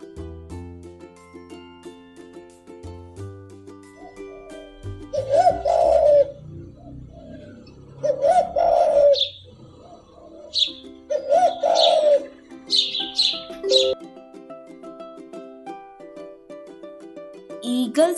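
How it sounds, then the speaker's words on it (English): Dove cooing in a series of soft, mellow phrases repeated several times, with brief chirps and a faint tonal background between calls. "Doves sounds coo."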